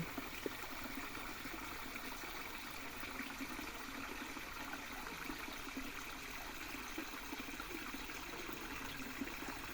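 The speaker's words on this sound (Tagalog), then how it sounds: "Yung maririnig nyo yung lagaslas ng tubig na ganyan, oh." A forest stream babbles and trickles steadily, a continuous close wash of running water with no voices.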